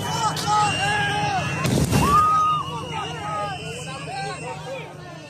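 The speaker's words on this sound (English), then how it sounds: "Protesters are now launching fireworks at federal officers as police deploy." Fireworks launched by protesters at federal officers during a street protest give a loud burst and crackle near the middle, set against a dense crowd babble and shouting voices that continue throughout.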